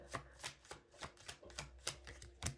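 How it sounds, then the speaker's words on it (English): Tarot cards being shuffled by hand during a reading, a quick run of crisp papery riffles and slaps about two per second, close and clear with no talking. "shuffle a few more cards as well"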